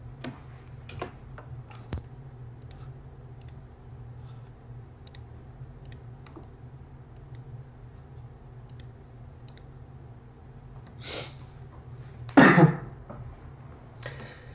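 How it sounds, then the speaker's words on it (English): Quiet ticking clicks run through a low room hum, and near the end a person who has had a cough for a week clears the throat and coughs once, short and fairly loud. "I've been having a cough for almost a week now"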